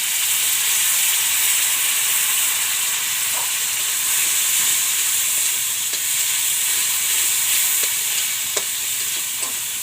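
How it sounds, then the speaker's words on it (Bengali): Ground spice paste fries in a pan for an onion- and garlic-free paneer curry, a steady close hiss and sizzle with occasional light ticks of stirring, no talking. "ভালোভাবে ভেজে নেব যাতে কাঁচা গন্ধটা চলে যায়।"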